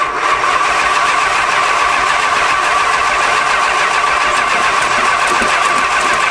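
A 1975 Chrysler New Yorker engine cranks over steadily and loudly, a continuous close-up grinding churn of the starter turning the engine without catching, with no talk over it.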